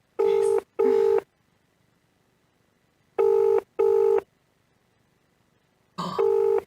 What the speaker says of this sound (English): This is going to be your phone ringing.